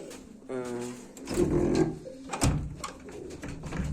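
Pigeons eating outdoors in winter: soft cooing and fluttering calls mixed with pecking and shuffling sounds, with a person speaking nearby.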